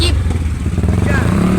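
A motorcycle in a street procession rumbles past with a low, throbbing engine hum, while people talk over it.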